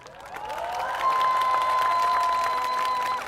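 Crowd applause at a 2025 Seoul election campaign rally in Gwanak, Dongjak and Geumcheon districts, a steady wash of clapping that swells after the first second and holds at full strength, with a sustained tone running under it.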